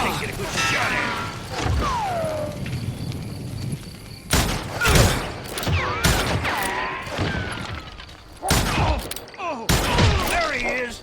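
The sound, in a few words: gunshots in video game Call of Juarez: Gunslinger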